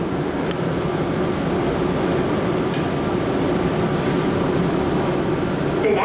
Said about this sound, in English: Welcome aboard the plane train. Please hold on. This train is departing.